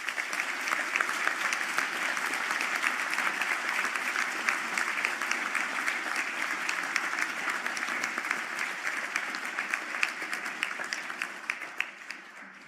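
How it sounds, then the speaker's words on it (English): A large audience at a university conferring ceremony in Galway applauds graduating computing and software development students, with dense, steady clapping that fills the hall and carries on evenly before tapering off at the end. "stand for a round of applause"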